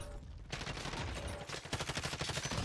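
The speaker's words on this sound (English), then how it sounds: "Shotgun, dude." Rapid bursts of shotgun fire in Call of Duty Modern Warfare Warzone, several sharp blasts packed closely together in under three seconds, fairly quiet overall.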